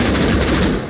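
Rapid, loud burst of automatic gunfire in the survival video game Rust, a continuous close-range volley lasting about a second with no talking over it.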